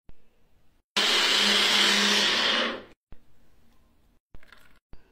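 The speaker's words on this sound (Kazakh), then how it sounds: "блендерден өткіземіз де сүт жасаймыз" A blender whirs loudly at a steady pitch for about two seconds, blending soaked oats and water into oat milk, then cuts off; a few faint knocks follow.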